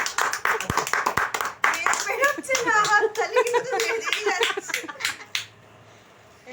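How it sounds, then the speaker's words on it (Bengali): Two people at an anniversary celebration clap hands together in quick rhythmic bursts, close and bright, while voices talk and laugh over the claps before the sound drops away near the end. "আমরা দুজনে হাতে হাতে করি হাততালি দিই হাতে হাতে"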